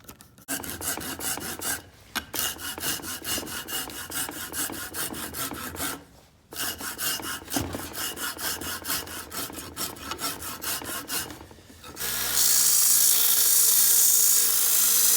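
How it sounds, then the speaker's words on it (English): A blade scrapes and carves a leather knife handle for a Navy Mk1 combat knife in steady rhythmic strokes, close by, with a few short pauses, then shifts to a brighter, harsher rasping near the end. "But I'm going to start with the box cutter though,"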